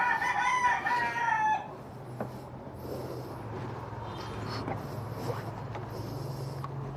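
A rooster crows once, loud and near, at the start, followed by quieter outdoor ambience with faint clucks and birds.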